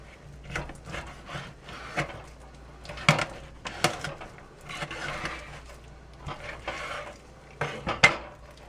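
A knife cuts chicken pieces in half on a board. A series of sharp chops and knocks comes at an uneven pace, close and fairly quiet, with faint scraping between them.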